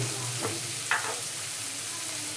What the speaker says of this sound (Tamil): இந்த வெங்காயம் வதங்கிறதுக்கு தேவையான உப்பு போட்டுக்கலாங்க